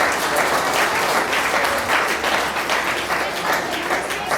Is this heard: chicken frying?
no